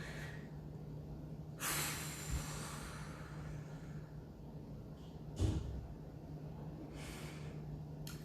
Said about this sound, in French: C'est magique, la respiration profonde.